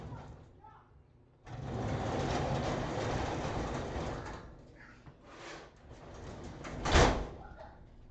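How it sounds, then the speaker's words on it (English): A residential garage door closes with a long, loud rumbling roll lasting several seconds, easing off into lighter knocks and a final heavier thud near the end. "I'm going to close my garage door. It might be a little loud."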